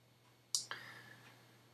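Computer mouse clicks, two quick crisp clicks close together, faint and close against a quiet low hum.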